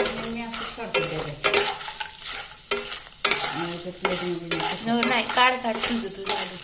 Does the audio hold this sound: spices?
yes